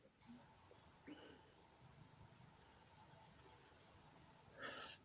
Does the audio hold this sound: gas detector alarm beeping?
no